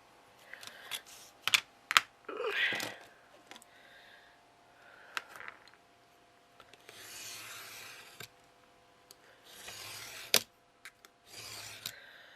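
Thick 2mm chipboard is cut for a small handmade picture book. Quiet, intermittent scraping and rasping strokes come in short bursts with pauses between them, close by.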